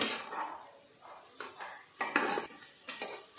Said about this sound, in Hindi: हे पण तेलामध्ये परतून घेते।